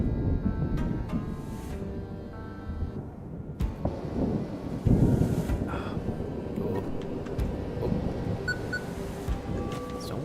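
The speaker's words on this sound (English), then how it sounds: "The storm is here." A thunderstorm rumbles through the video game Static Dread, a lighthouse setting, with low continuous rolling thunder and wind, swelling into a louder crack midway and then settling back into a steady stormy roar.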